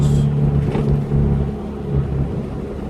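A Mazda B2600 4x4 pickup with a newly fitted exhaust runs close by, its engine giving a deep, steady rumbling idle with slight swells in loudness.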